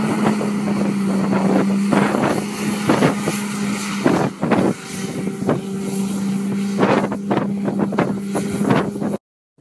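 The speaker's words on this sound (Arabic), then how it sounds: "الجو اليوم ويندي، رياح شديده" Strong wind buffets the microphone continuously and loudly on an outdoor skydiving day, with gusty rumble and intermittent thumps, then cuts off abruptly at the end.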